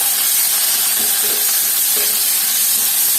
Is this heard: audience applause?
no